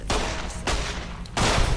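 Three loud gunshots ring out in Fallout: New Vegas, spaced unevenly about half a second apart, each a sharp close crack with a brief ringing tail.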